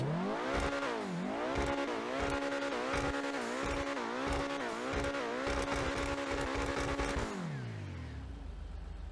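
Obey 10F sports car engine in GTA Online revving hard through repeated rising and falling pulls with quick shifts, loud and close, then settling to a low idle at the end.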